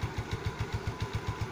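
A Yamaha Mio scooter engine fitted with a Honda Beat clutch, running close by in a steady, rapid, even putter with regular low thumps.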